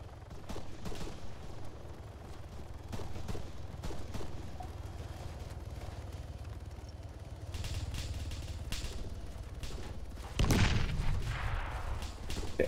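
Game gunfire rattles in the shooter King of the Hill, with scattered sharp shots over a constant low rumble, then a louder burst of blasts near the end, and no talking.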